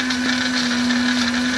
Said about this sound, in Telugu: మొదకాలకి కొబ్బరి మిక్సీ పడుతున్నాను.